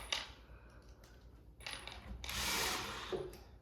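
Screws being driven through pocket holes while assembling a wooden farmhouse shoe bench, a few short bursts of a power driver whirring close by, the longest toward the end, with light clunks of wood between them.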